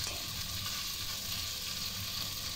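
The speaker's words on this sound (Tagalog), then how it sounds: "Piprito ko muna yung isda." Fish sizzles in a frying pan with a steady, close, hissing crackle of hot oil that carries on without a break.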